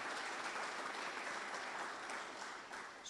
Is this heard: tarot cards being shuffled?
no